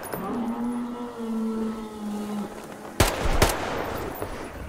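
Two sharp, loud weapon shots ring out in quick succession from a gun in Metro Exodus Enhanced Edition, breaking through a low droning ambient hum.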